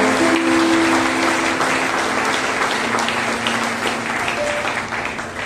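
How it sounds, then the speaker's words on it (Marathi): A church congregation at a prayer meeting claps loudly and steadily throughout, a dense wash of applause that fades slightly toward the end. "प्रभूला मोठ्याने टाळ्या वाजवून बोलूया."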